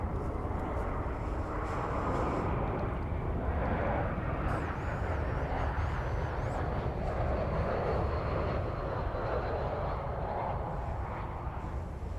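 A fixed-wing airliner arriving at Dallas/Fort Worth International Airport, a steady broad jet engine roar held throughout at moderate distance, with no talk over it.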